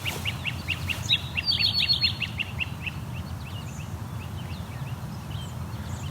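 A great crested flycatcher calls in a rapid series of sharp notes early on, then fainter repeats, over a steady low background rumble.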